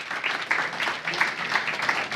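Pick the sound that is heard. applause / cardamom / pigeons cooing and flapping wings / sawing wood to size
applause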